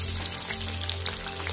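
Hot oil and ghee sizzling in a cooking pot while making beef biryani, a steady close crackle and hiss with faint bubbling, heard alone without voices.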